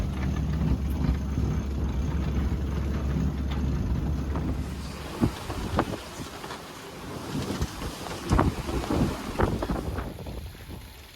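Strong wind around 25 knots buffets a sailing yacht at sea, a loud, continuous rush of gusts and microphone wind noise mixed with splashing waves and water slapping the hull.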